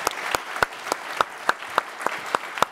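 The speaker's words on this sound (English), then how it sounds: "please join us all in giving Sal another round of applause" An audience claps for a departing moderator at a kickoff event, a steady run of sharp, evenly spaced claps without voices.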